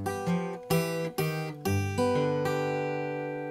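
A quick run of plucked guitar notes and chords, bright and ringing, played briskly with several distinct strums before a final chord sustains and fades.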